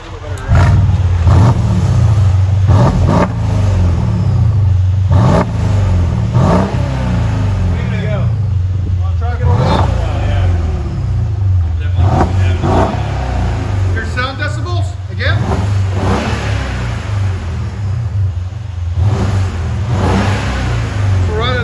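A loud 2014 Mercedes CLS 550 V8 engine with mufflers cut off revs repeatedly in sharp bursts over a rumbling idle, close up, with occasional voices in between.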